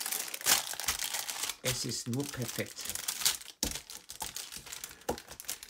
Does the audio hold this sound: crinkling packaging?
yes